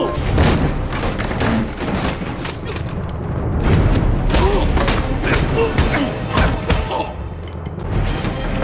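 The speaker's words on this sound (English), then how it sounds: "Who in God's name has automatic rifles?" Automatic rifle fire in an action film scene comes as a loud, dense stretch of rapid shots mixed with booming impacts and crashes, and voices can be heard through the barrage.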